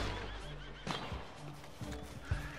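A horse whinnies in Red Dead Redemption, a short high neigh standing out over a busy game soundscape with scattered thuds and low rumble.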